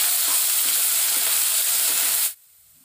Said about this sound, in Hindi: अब हम प्याज को डाल देंगे, पिसे हुए प्याज हमने डाल दिए हैं। अब इनको भून लें।